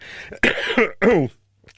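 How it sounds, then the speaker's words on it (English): A person coughs two or three times in quick succession, close and loud, then it falls silent. "Excuse me, coughing."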